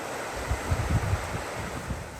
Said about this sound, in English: The river is flowing so fast today